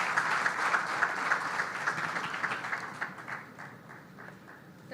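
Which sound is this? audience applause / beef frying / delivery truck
audience applause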